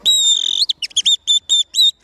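A person imitates a song thrush call with high, clear whistled notes: one long drawn tone followed by a run of short, repeated chirping phrases with brief gaps between them.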